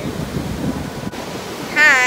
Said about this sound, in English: But these waves are too big, Michelle.